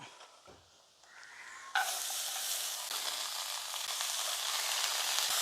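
Beans tipped into a hot pan with garam masala, black pepper and chili, then a loud, steady sizzle of frying and stirring, close up, with no talking.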